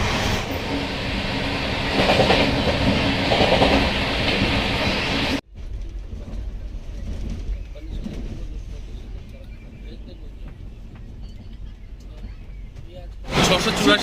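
Howrah Amritsar Mail (13005) running through open countryside, heard from the carriage doorway as a loud continuous rumble and wind rush, a sharp cut to a quieter clattering stretch, then a loud surge at the end.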